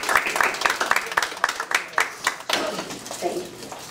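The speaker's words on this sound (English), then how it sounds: "Please give her a round of applause." A small audience at a community meeting gives a scattered round of applause for an elementary school vice principal, with individual claps clearly distinct and uneven, and speech mixed in near the end.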